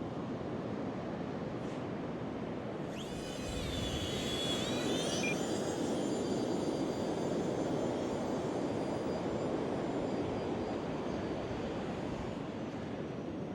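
A small RC model Messerschmitt 262 jet's high whine rises and shifts briefly, nearby at first, over steady rushing wind and surf-like noise that continues throughout.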